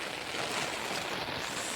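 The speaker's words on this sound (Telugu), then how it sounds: "దంచేస్తుంది వాన, చిన్న వాన కాదు." Heavy rain pouring down outdoors under trees, a dense, continuous hiss of water hitting surfaces, loud and unbroken with no voices.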